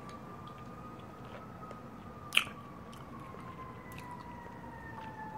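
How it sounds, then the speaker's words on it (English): Emergency vehicle sirens wail faintly in the distance near hospitals, a thin drawn-out tone beneath close chewing and mouth noises from someone eating, with one sharp crinkle partway through. "I know you hear those sirens."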